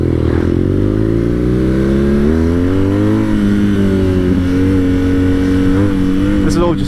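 A 2020 BMW R nineT Scrambler motorcycle accelerates in first gear, its engine note climbing loud and close with a throbbing, rumbling tone that rises in pitch, eases briefly and climbs again.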